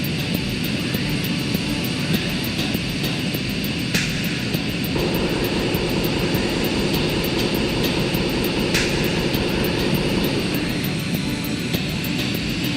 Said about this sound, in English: I just have my finger down on the afterburner right now